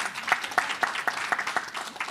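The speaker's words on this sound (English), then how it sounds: "So can I get an applause for that before I introduce him?" Audience applause at the official launch event of Timeless Herbal Care Ltd., a modest crowd clapping in a steady rhythm of distinct, fairly close claps for a couple of seconds.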